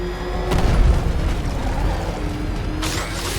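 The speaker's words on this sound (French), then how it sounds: "Fais gaffe, Batman a équipé sa bagnole d'un méchant canon" Heavy booming blasts and rumbling thuds from a video game, a powerful cannon shot followed by a sharp burst near the end.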